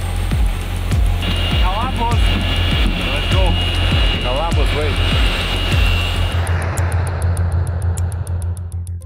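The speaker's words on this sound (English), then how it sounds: "The plane landed around midnight" A plane lands at night, its engine roar loud and steady throughout, with speech running over it and the noise easing slightly toward the end.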